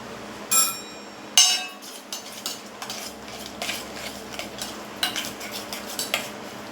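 Spices and white sesame seeds being mixed by hand into a bowl for Gujarati methi muthiya, giving a couple of sharp clinks near the start and then soft, irregular scraping and stirring sounds, close and fairly quiet.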